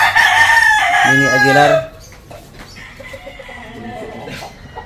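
A rooster crows loud and close with a long drawn-out call, then fainter clucking follows while people talk quietly nearby.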